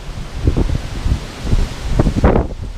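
Wind gusts roar and buffet outdoors among ancient ash pollards at Easton Drove, Somerset, a loud low rumbling with microphone buffeting, heard alone.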